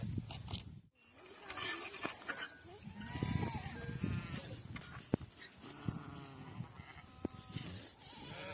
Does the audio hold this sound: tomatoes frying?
no